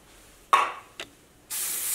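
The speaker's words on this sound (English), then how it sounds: "Just kind of spray it everywhere." Hairspray from an aerosol can hisses onto hair during pineapple-bun styling: a short burst, a second quick puff, then a longer steady spray, close and fairly loud with no talking.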